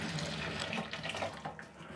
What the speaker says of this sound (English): Put the hot water in the pot like so.